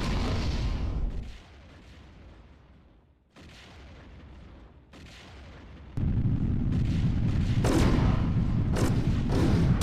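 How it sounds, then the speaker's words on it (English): Torpedo launches and heavy booming explosions from the space combat game Wing Commander: Prophecy, a loud rumbling blast at the start, a quieter stretch with further bursts, then a sustained loud roar of detonations toward the end. "Torpedo locked and fire!"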